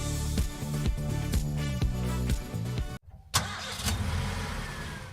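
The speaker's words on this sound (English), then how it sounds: "The sound of a car starting." Car engine starting: a cranking starter whirs in repeated pulses, a brief silence, then the engine catches and settles into a steady mid-pitched running hum, close and loud.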